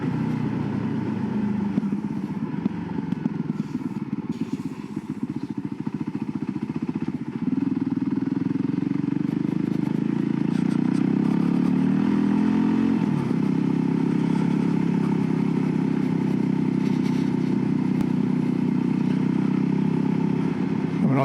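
A Voge 300 Rally single-cylinder adventure motorcycle rides a dirt track, its engine droning steadily and loudly with gear and throttle changes, plus faint clatter from the rough surface.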